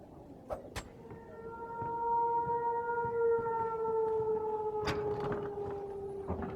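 An alarm siren wails in the first-person shooter Wolfenstein: The New Order, a steady, sustained tone lasting several seconds, moderately distant beneath scattered short game clanks and thuds.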